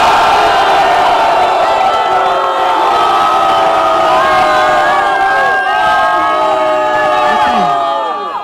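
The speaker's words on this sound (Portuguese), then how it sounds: "Só quem gostou do Cepante, faz barulho aí, Botafogo" A live crowd at a 2017 state-championship semifinal MC battle in Botafogo roars and cheers for a competitor, a dense, loud wall of shouting and whooping voices that holds steady for several seconds before easing at the end.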